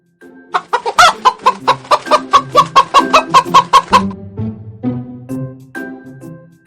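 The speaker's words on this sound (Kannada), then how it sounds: "ಹೆಂಟೆ." A hen clucking in a rapid, rhythmic run of close, loud clucks that slows into softer, scattered calls with other fowl faintly in the background.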